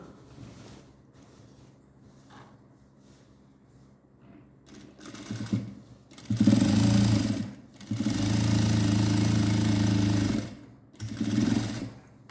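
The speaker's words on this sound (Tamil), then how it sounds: "திருப்பி ஒரு தையல் போட்டுக்கலாம்" A sewing machine stitches the seam of a pant, running in several bursts that grow louder and longer, close by, with quiet pauses between runs and no talk.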